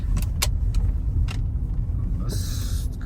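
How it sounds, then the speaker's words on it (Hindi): A car is being parked, its low engine rumble running steadily beneath a few short clicks and rattles, with a brief hiss near the end. "गाड़ी पार्किंग में लगाते हैं"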